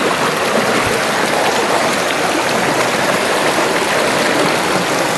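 Steady rushing of a clear stream in Mindanao, a dense, constant wash of splashing and babbling with no voices, loud and close.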